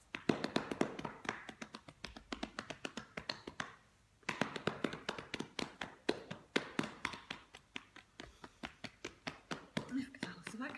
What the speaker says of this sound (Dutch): Even alles wakker kloppen.